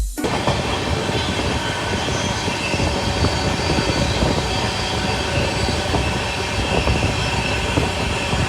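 A passenger train runs from Sabarmati railway station toward Firozpur. A steady, dense rumble of wheels on rails carries on throughout, with faint rhythmic clicks and the occasional squeal.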